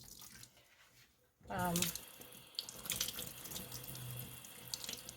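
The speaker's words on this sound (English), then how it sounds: "I just give it a little bit of a rinse." Running tap water splashes into a sink as a 100-gram hank of wool yarn is rinsed, starting abruptly after a quiet moment and continuing as a steady close gush.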